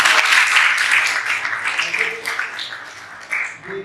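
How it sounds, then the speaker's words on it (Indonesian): An audience at an Indonesian teachers' session on academic supervision gives a round of clapping, a loud, dense burst that slowly tapers, with a few voices mixed in beneath it. "Oke, tepuk tangan dulu."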